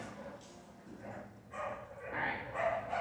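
A dog barks and yips several times, close by, while people talk over it in an indoor setting.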